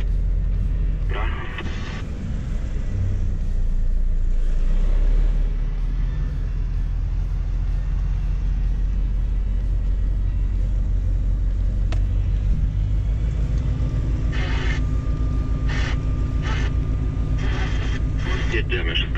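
A truck driving along roads in the Czech Republic, its steady low engine rumble and road noise filling the cab while people talk inside.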